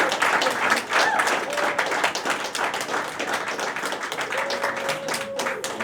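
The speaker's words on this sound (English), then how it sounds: "Give yourself a round of applause." Steady applause from an audience at a reading in a cinema café, many hands clapping densely and continuously at a fairly loud level throughout.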